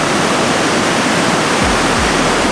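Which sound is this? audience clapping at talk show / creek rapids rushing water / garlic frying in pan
creek rapids rushing water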